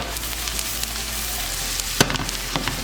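Garlic sizzles in a pan with bell peppers and white onion, a close, steady frying hiss with a brief clatter of stirring.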